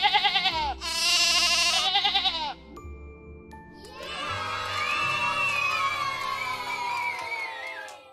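A lamb, a baby sheep, gives a loud, drawn-out bleat near the start, followed by a busier stretch of mixed, wavering calls and background bustle.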